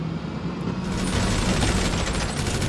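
Sustained gunfire crackles from the bunker shooting range in GTA Online, a dense continuous fusillade of overlapping shots, loud and echoing inside the underground space, with no talking.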